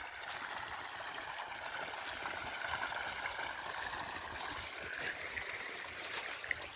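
Water from a pond runs along a channel in a field, a soft, continuous trickle and gurgle that stays faint throughout, with no voices.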